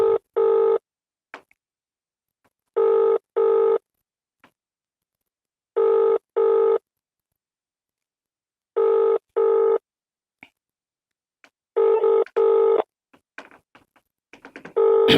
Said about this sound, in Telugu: రింగ్ అవుతుంది కానీ లేపుతలేదు.